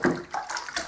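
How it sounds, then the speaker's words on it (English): Water running into a sink being refreshed for a guinea pig bath, a brief close splashing gush with bubbling flow over under a second. "and refresh the water in the sink."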